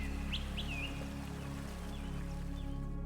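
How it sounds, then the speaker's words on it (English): Birds chirp in a grove, with a few short, faint calls and tweets rising above a steady low background hum. "a natural symphony of chirping birds, rustling leaves, and distant flowing water"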